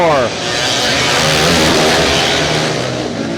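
Kage karts race on the Salem indoor speedway just after the green flag, their engines a dense, loud, continuous roar with rising revs at the start, under an announcer's voice.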